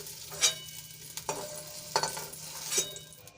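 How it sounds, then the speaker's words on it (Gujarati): Capsicum being sautéed in a pan: a soft, steady sizzle of frying with four or five distinct stirring scrapes of a spoon against the pan, quiet and close, with no talking. "અહીંયા કેપ્સિકમમાં પાણીનો ભાગ વધારે હોય છે એટલે તોને સંતળવા જરૂરી છે"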